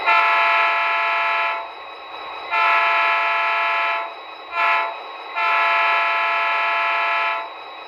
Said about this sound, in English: We'll hear the horn one more time.